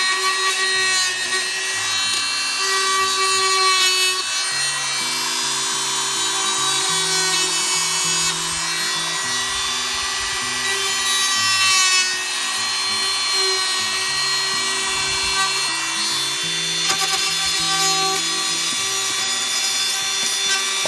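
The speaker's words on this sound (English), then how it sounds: "So we're just barely getting past that really hard fiberglass exterior." Power tool grinding through a hard fiberglass exterior about an eighth of an inch thick while repairing an RV awning brace on a Fleetwood Regal fifth wheel: a constant high-pitched whine with rasping texture, heard close and uninterrupted for twenty seconds, with no speech.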